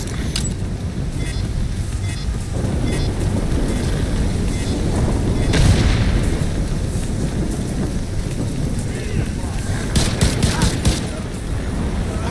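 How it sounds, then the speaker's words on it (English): An explosive detonates in The Division 2 during a Department of Justice side mission: a dense, rumbling roar of combat noise swells into heavy booming bursts, loud and continuous with no pauses. "Get clear before it detonates."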